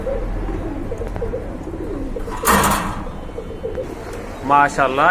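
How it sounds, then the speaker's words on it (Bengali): Pigeons cooing at a pigeon market: soft, low, throaty coos sit under a steady murmur of market background, with a brief burst of rustling noise midway and a clearer warbling call near the end, and someone talking nearby. "এখানে কিন্তু খুবই চমৎকার এক জোড়া কবুতর আছে"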